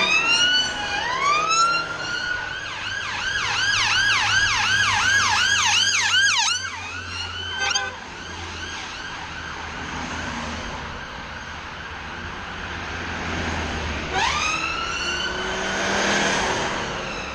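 Several wailing police and ambulance sirens sweep up and down loudly, overlapping as the vehicles pass nearby in Nottingham, then fade before another siren rises near the end.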